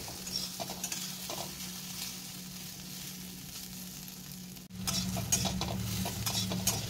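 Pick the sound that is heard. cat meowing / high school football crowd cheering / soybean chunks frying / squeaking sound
soybean chunks frying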